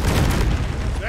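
A cluster grenade in Deep Rock Galactic goes off with a loud, rumbling burst of booms and crackles over roughly a second. Game noise and voices mix in with it.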